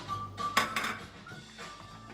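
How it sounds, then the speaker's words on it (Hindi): Yogurt stirred in a bowl with salt, chili and cumin for boondi chaat, giving a few clinking scrapes of a spoon against the dish, two sharper knocks near the middle, with faint kitchen background. "और फिर इसमें जो हमने नमक, मिर्च और ज़ीरा रखा हुआ है ये डाल के हम दही को अच्छी तरह से मिक्स करेंगे"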